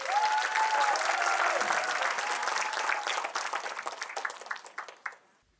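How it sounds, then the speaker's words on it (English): An audience gives a big round of applause to welcome a student speaker, a full burst of many hands clapping, with a few cheers early on, thinning out into scattered claps and then fading to silence. "Let's give our biggest round of applause for Kenneth Vemory."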